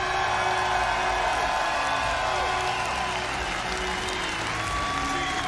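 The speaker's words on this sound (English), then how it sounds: "let's give W7M a round of applause" Steady applause and crowd noise from a large audience at the Rainbow Six Siege Six Invitational 2023 esports finals, with scattered cheers and whoops, continuous and loud throughout.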